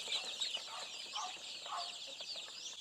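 A batch of young chicks, including naked neck birds, peep steadily in high, overlapping chirps, close and continuous, with a few lower clucks mixed in and no talking.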